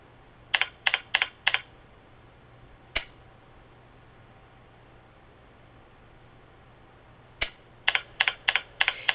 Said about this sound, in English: Type in PO13 in the command box and hit enter.